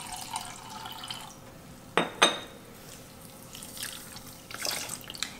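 Water is poured into a pudding mold holding sugar for caramel, giving a couple of short splashy pours with faint trickling and clinks between them.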